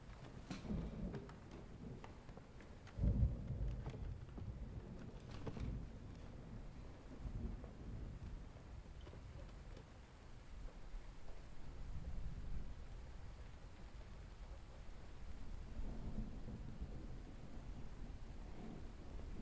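Steady rain falls through a thunderstorm, with a sharp crack of thunder near the start and low rumbles rolling under the constant patter, no voices.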